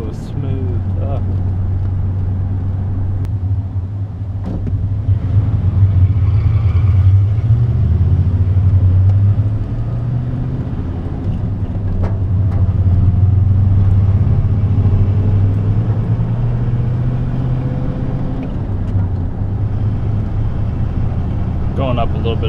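A truck engine labours steadily uphill, a loud, close low rumble that swells and eases with the throttle, heard from inside the cab with pedal and clutch noises and someone talking over it at times.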